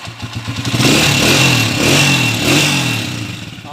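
A Mulawin TMX155 motorcycle engine runs close and loud, first pulsing in quick rhythmic beats, then swelling into a smooth, steady rev that rises and falls twice.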